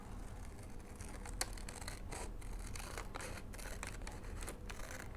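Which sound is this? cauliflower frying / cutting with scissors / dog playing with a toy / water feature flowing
cutting with scissors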